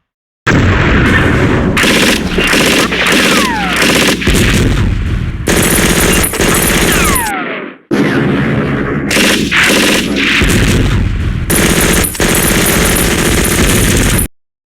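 Tank gunfire in the wargame Steel Panthers World at War, loud repeated rapid cannon and machine-gun bursts in dense volleys, briefly breaking off midway before resuming.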